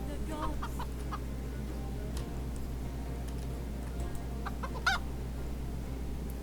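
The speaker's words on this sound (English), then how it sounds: "He's clucking like a chicken." A chicken clucks in the video game Titan Quest 2, a few short, faint clucks scattered over a steady low hum of game ambience, with one brief louder squawk near the end.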